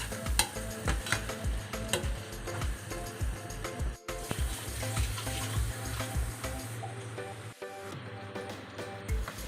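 Potato roast masala cooking in a pan after a little water goes in, giving a busy close sizzle with frequent rhythmic stirring clatter and brief pauses, loud and steady throughout without speech.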